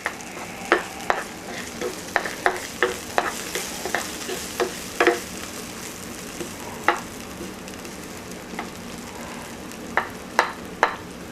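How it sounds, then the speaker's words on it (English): Green beans stir-frying in a pan with tomato and onions, a soft steady sizzle broken by scattered sharp clicks and scrapes of a utensil against the pan; no talking. "this is when we're gonna put in the green beans"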